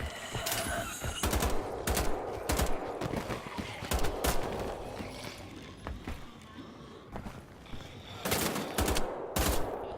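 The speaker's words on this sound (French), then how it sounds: "maintenant ils savent se servir de fusil d'assaut" Assault rifle fire in a video game: repeated sharp bursts of automatic gunfire crackle across the mix in several clusters, loud and close, with busy game ambience between the volleys.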